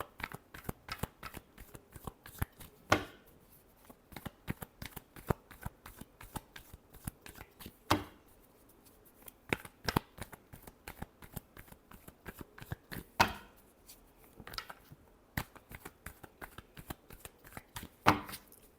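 Tarot cards are shuffled again and again in a quiet room, a long series of crisp riffling bursts and soft slaps coming in irregular clusters, close and fairly quiet, with no voices.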